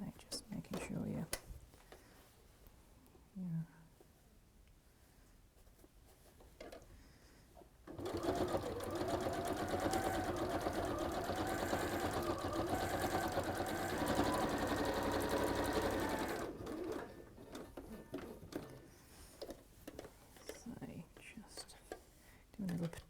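A sewing machine runs steadily for several seconds, top stitching around the edge of PVC in a single continuous whirring burst, with soft whispered talk before and after.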